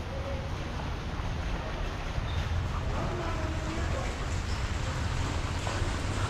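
Rain falls on a house construction site in Bulacan where exterior wall waterproofing is underway, producing a continuous, moderately loud wash of patter with faint background murmurs.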